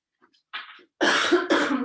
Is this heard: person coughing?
yes